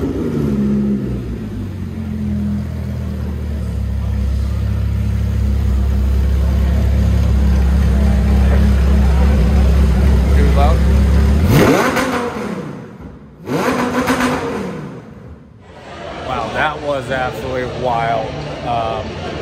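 A Monterossa super go-kart with a Lamborghini Gallardo-based V10 of about 600 horsepower starts up: a steady low hum and ambient noise give way to loud, sharp revving bursts near the end, with a voice talking over parts.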